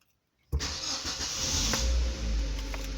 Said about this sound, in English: now let's start the car and see if this is going to drop